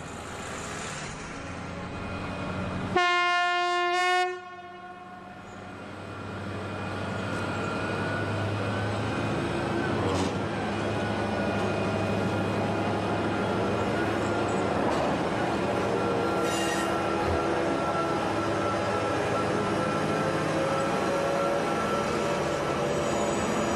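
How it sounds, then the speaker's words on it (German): A heavy freight train of over 1000 tonnes on the Lübeck harbour railway starts to move: a short loud horn blast, then a diesel locomotive's engine drones and builds into a sustained, rising hum and rumble as the load gets underway. "Über 1000 Tonnen Zuglast müssen in Bewegung gebracht werden."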